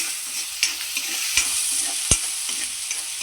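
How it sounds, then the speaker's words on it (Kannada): A coarse paste of turmeric and green chilli fries in a pan with a bright, loud sizzle, punctuated by sharp spoon scrapes and a couple of hard knocks against the pan. "ಇದು ಹಸಿ ಸ್ಮೆಲ್ ಹೋಗೋಂತ ಫ್ರೈ ಮಾಡ್ಕೋಬೇಕಾ"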